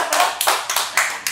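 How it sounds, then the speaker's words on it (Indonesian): A few people clapping briefly at a podcast recording session, loud and close, with sharp bursts of claps in uneven clusters and no talk over them. "Luar biasa, tepuk tangan sekali lagi."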